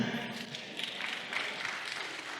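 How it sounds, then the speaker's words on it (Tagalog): Scattered clapping from a worship congregation during a Sunday service fills a hall, a steady broadband patter at moderate distance with a voice briefly heard at the start. "7, 8, 9. 10 lang pumalakpak."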